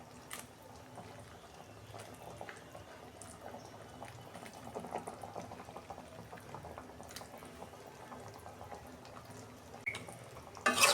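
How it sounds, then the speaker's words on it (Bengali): Fish curry with potatoes simmering in a pot as tomatoes and okra are added, a steady soft bubbling with faint splashes and clinks throughout, louder near the end. "এই যে টমেটো দিচ্ছি, ঢেঁড়সগুলো দিয়ে দিচ্ছি।"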